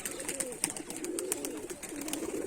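A tame Rajshahi high-flying pigeon coos nearby in soft, rolling, low phrases, with a scattering of sharp clicks and chirps from other birds above.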